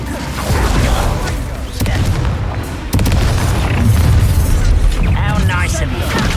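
An Incendio fire spell bursts out during combat in the video game Hogwarts Legacy, a loud, dense roaring blast with booming rumbles and sharp pops layered over one another and continuing without a break.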